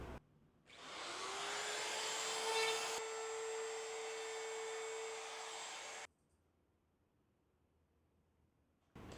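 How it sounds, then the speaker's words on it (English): Router cutting out damaged fiberglass and foam from a dinged surfboard, one loud continuous high whine lasting about five seconds before stopping abruptly, close and alone with no talking. "I'm going to use the router."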